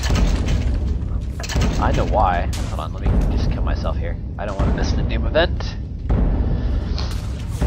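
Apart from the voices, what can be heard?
pounding booms in a video game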